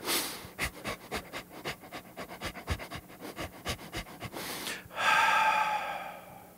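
Quick, rhythmic nasal panting, a steady string of about a dozen short sniffing breaths, close and clear, ending in one long, breathy exhale.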